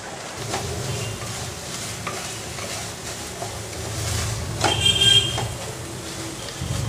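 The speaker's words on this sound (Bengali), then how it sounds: "গ্যাস যেহেতু হাই ফ্লেমে আছে তাই এই সময় মশলাটাকে অনবরত নাড়তে হবে যেন মশলা পুড়ে না যায়" Spice paste for Goan fish curry sizzling in a pan over a high gas flame while a spoon stirs it continuously, with steady frying hiss and scraping strokes against the pan, close and moderately loud.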